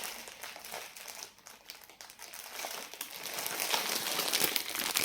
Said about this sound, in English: Without rustling the packaging too much.